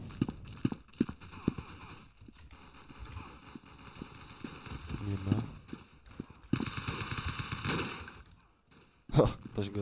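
Gunfire in the blocky first-person shooter Blockade 3D, with bursts of sharp rapid shots and single cracks scattered across a quiet background, loud and close.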